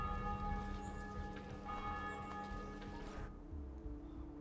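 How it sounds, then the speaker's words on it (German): A church bell tolls in Assassin's Creed II, its sustained ringing tones hanging over a bed of game ambience and crowd murmur before fading out near the end. "Und die Glocke läutet weiter."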